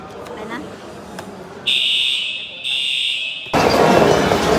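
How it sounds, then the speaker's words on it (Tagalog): A fire alarm sounds aboard a dhow cruise boat in Qatar, a loud steady electronic tone in two bursts with a short gap, followed by a burst of broad noise, over background chatter. "So guys, bababa kami kasi nag-fire alarm, may emergency daw."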